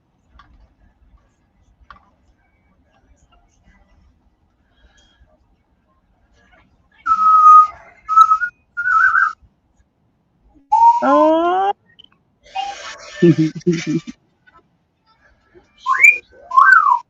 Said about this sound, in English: he whistled at you